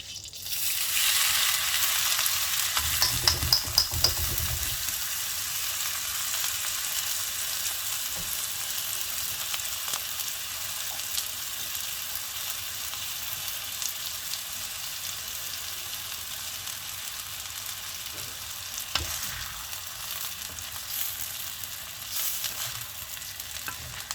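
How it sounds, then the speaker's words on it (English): Rice goes into a pan of already sizzling hot oil, bringing a loud burst of frying early on that settles into a steady, close, continuous hiss and crackle with no talking. "the oil is already sizzling. So now I'm going to put the rice in."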